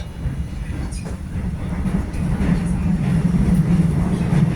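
A Korean commuter train near Dowon station rattles along the tracks with a continuous heavy rumble and clatter heard from on board, growing slightly louder over a few seconds.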